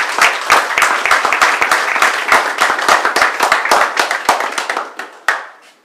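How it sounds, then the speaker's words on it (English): A small audience at a tech startup meetup applauds entrepreneurs with distinct, sharp hand claps in a quick irregular patter, fairly close, thinning out to a few last claps before stopping. "let's celebrate the entrepreneurs by giving everybody a round of applause"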